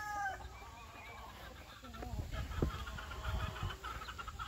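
Backyard hens and chickens make scattered clucks and rooster-like calls, mid-distance, over steady outdoor background noise, with a few low thumps near the end.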